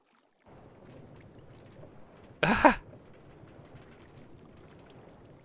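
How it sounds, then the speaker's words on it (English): Minecart rolling on a rail in Minecraft, a steady low rumbling roll that continues throughout, with one brief louder burst partway through. "it's making the noise like it's going somewhere because it's on a rail"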